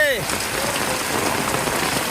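Steady rain falling on surfaces in a village, a dense continuous patter close by with no breaks, after a brief faint whistle-like tone at the very start.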